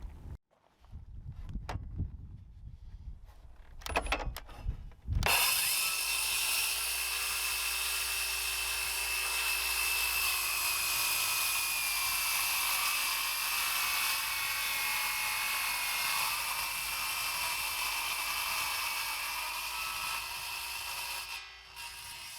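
A power saw cuts a deck board in place on an outdoor deck. A few scattered knocks and handling sounds come first, then a loud, sustained whining cut runs steadily for about seventeen seconds before stopping briefly near the end.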